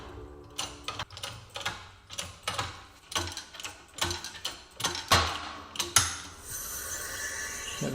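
A 38mm bushing driver presses a bushing out of a Jaguar S-Type lower arm, giving repeated close creaks, ratcheting clicks and metallic knocks in an uneven rhythm, ending in a sharper crack as the bushing gives way.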